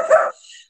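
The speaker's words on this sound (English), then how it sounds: "The individual realizes that I cannot come to the door, and the puppy stops barking." A puppy gives one short, sharp bark indoors after a knock at the door, followed by a fainter whimpering trail; close and alone.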